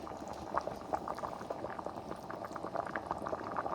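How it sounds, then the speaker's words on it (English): A pot of Puerto Rican rice with pigeon peas boils steadily, with dense bubbling and small pops in a continuous close simmer and no voices. "And now it's doing some boiling,"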